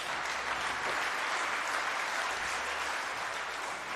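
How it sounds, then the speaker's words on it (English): A crowd at an agricultural awards ceremony in the Western Cape gives steady, dense applause that stays loud and even for several seconds. "Please give her another round of applause."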